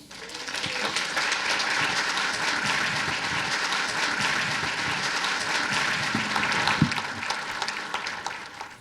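A seated audience claps warmly and steadily for several seconds to welcome speaker Sherry Wilde at a talk by an E.T. contactee, a full room of applause that holds level throughout.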